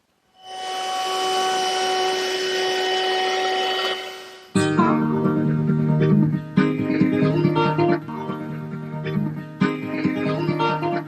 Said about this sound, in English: I'm just going to use my router with a 1/4 inch rounding over bit